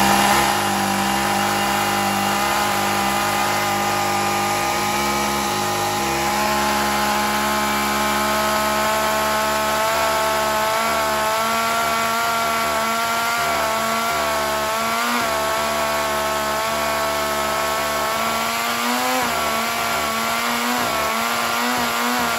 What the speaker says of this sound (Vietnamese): cưa này các nghe thử tiếng máy nhá